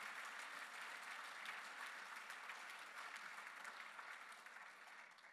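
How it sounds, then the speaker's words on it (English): A gala audience at a tribute evening claps in a steady round of applause, full and even crowd clapping that tapers slightly toward the end. "let's give another round of applause for Miss Laura Schuler for that wonderful, w"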